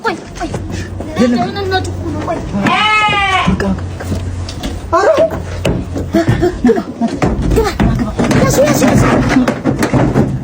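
Sheep bleat loudly and close by, a wavering cry in the middle, with people talking and chattering around it on a farm.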